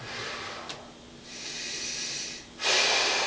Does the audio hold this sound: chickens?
no